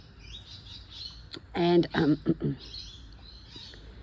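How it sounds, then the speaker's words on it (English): Birds chirp outdoors in faint, scattered high tweets through the background while someone talks nearby. "listen to those birds"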